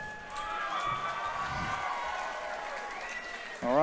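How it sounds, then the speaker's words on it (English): A crowd at a Muay Thai fight night in a tavern applauds and cheers for several seconds. The sound is steady and moderately loud, with a sustained tonal hum beneath it and a louder burst right at the end. "give him a round of applause"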